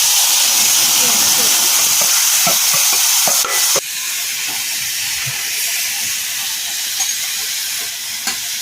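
Cluster beans frying in oil over a village wood stove, a loud dense sizzle that drops to a softer steady hiss after a few seconds, with light scraping stirs throughout.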